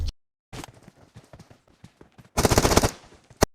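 Gunfire in the PUBG battle royale video game: a rapid volley of close sharp shots, scattered lighter impacts, then a loud dense burst of automatic fire ending in a final crack.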